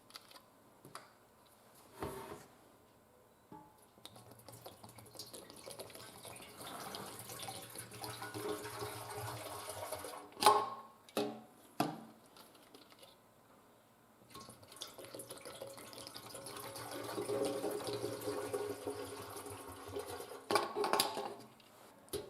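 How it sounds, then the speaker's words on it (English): Alcohol poured from plastic bottles into a Honda SL125 motorcycle fuel tank after a hot-water flush, giving intermittent liquid splashing and gurgling with a few knocks and clunks, moderately close and without talk. "Now we're going to go ahead and start putting the alcohol in."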